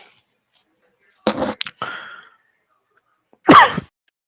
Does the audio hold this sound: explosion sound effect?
no